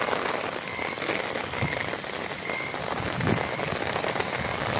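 Steady rain pours in Swabi, Pakistan, a dense continuous hiss of drops hitting surfaces nearby, with occasional heavier splatters and no voices.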